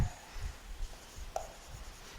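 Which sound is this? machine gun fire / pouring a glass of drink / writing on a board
writing on a board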